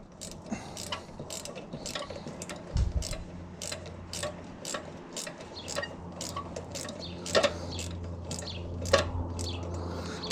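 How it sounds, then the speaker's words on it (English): A ratchet wrench clicks steadily as it loosens a carburetor bolt on a Briggs and Stratton engine, a rapid run of sharp close ratcheting ticks with a brief pause partway through. "So now I got a ratchet wrench. Put it on there. Oh, wrong way. Just ratchet that out."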